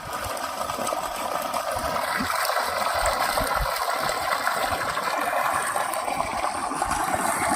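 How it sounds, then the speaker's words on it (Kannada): Borewell water on farm land near Begur gushes out forcefully in a loud, steady rushing spray that carries on unbroken, with no voices. "ಈ ಥರ ಫೋರ್ಸಲ್ಲಿ ಬರ್ತಕ್ಕಂಥ ನೀರಿನ ವ್ಯವಸ್ಥೆಯಿಂದ ಕನಿಷ್ಠ ಪಕ್ಷ 5 ಎಕರೆಗೆ ಪೂರೈಸ್ಬೋದು"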